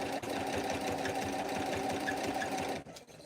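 A domestic sewing machine runs steadily during free motion quilting on a ghost pillow, a loud, close, rapid mechanical whir that stops abruptly near the end.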